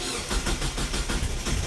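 A Mazda Miata engine fires up via a push-start setup and settles into a steady, pulsing idle, loud and close, with a regular throbbing rhythm throughout.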